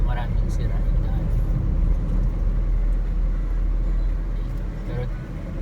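Suzuki S-Presso AGS driving on a rough, damaged mountain road, a continuous low engine and road rumble with bumps and rattles, steady throughout and heard from inside the car.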